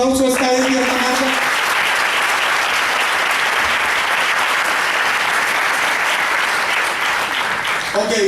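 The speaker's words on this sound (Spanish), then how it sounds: "Quiero que le demos un fuerte aplauso" A crowd at a Fuxion business presentation gives a strong, sustained round of applause lasting over eight seconds, with some brief tonal sound at the very start before the dense clapping takes over.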